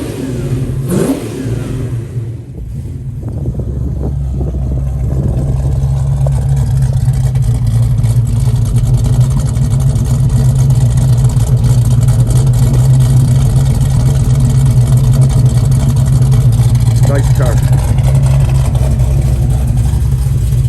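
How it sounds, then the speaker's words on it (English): A 1970 Dodge Challenger engine idling with a deep, loud rumble, then revved up and held at a steady raised drone before easing slightly near the end, with no talk. "Let me give it a little bit more gas."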